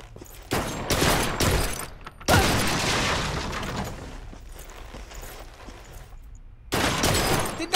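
Bursts of gunfire in the shooter game Blue Estate come in several loud volleys separated by quieter stretches with mechanical clicks, ending in a final burst.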